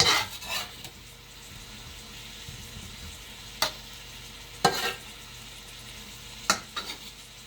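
Ground beef sizzles quietly in a pan, with a few sharp scrapes and taps as a flexible spatula stirs and turns it.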